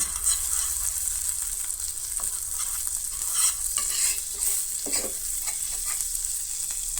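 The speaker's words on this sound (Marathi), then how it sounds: "आतां ह्याच न्हय पॅनान हांव इल्लेशें बटर घालतलें" Butter sizzling and frying in a pan used to toast pav for street-style masala pav, a steady bright hiss with occasional stirring scrapes, close and continuous without speech.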